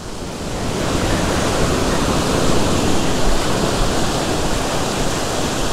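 Ocean surf washing onto a sandy beach gutter, a steady, loud, broadband roar of breaking waves that fills the whole stretch without pause and with no voices over it.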